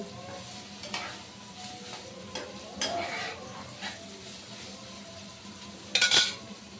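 Chicken stirred into vegetables in a frying pan: soft, scattered scrapes and a faint sizzle, then a sharp, louder utensil clatter near the end.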